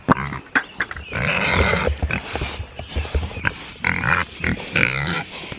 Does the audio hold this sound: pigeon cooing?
no